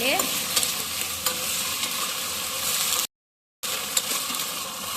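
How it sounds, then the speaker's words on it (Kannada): Kabuli chickpeas fry in hot oil for a sambar, giving a dense, close sizzle with stirring scrapes; a brief dropout of silence breaks the sound midway before the frying resumes. "ಕಡಲೆಕಾಳೆಲ್ಲ ಹಾಕೊಂಡಿದ್ವಿ ಚೆನ್ನಾಗಿ ಟೂ ಮಿನಿಟ್ಸು ಎಣ್ಣೆಯಲ್ಲಿ ಹಂಗೆ ಫ್ರೈ ಥರ ಆಗಲಿ"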